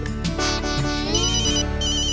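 A loud, melodic electronic phone ringtone plays continuously, close and with no talking.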